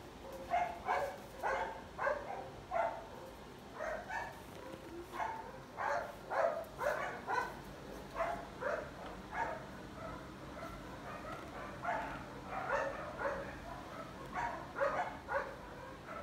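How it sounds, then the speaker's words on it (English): Several dogs bark and yip outdoors in repeated short bursts, somewhat distant and moderately quiet, keeping up an uneven rhythm throughout. "Dogs barking out there."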